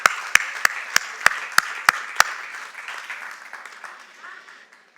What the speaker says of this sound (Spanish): pero ese aplauso está medio, vamos a dárselo de verdad, porque es para la gloria del Señor